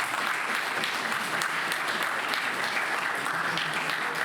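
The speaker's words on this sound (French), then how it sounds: "S'il vous plaît, applaudissez-le." An audience at the L'West Fest applauds a volunteer called up from the crowd, a steady, dense wash of clapping at moderate volume lasting several seconds.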